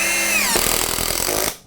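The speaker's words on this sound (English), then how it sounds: "we're going to use an impact drill to go into here, and we're going to put these in." Impact drill driving heavy-duty, aggressively threaded screws into a large Osage orange wood blank, a loud close continuous whine that shifts into rapid rattling hammering impacts for about a second before cutting off.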